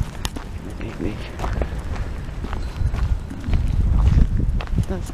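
Horse hooves clip-clop on a village street in Lamspringe, Lower Saxony, a steady close rhythm of hoof strikes growing louder toward the end, with people talking over it.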